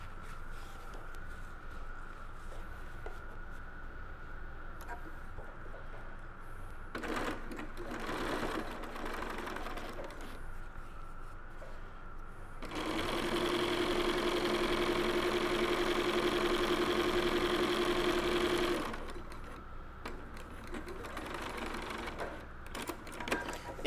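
Sewing machine stitching a reusable snack bag with zip tape, a steady loud mechanical whir running about six seconds alone, preceded by shorter quieter bursts of stitching.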